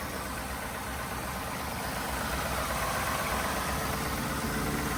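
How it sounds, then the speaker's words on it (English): A 2018 Ford F-150 XL Supercab with the 5-liter Coyote V8 idles steadily, a constant low engine rumble with broad whirring noise at a fairly quiet, even level and no talk. "this is the 5-liter V8. This is known as the Coyote V8 that this vehicle has."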